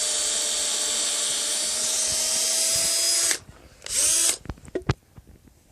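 A power drill runs loud and continuous drilling through wood for a rabbit hutch, cuts out, gives a short second burst, then a few knocks and clatters follow.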